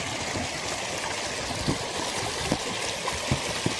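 A river runs near a campsite with a steady rushing, trickling wash of water and occasional soft splashes and gurgles, heard alone at moderate level.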